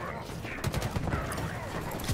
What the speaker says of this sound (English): Zeratus just shot me once and I died.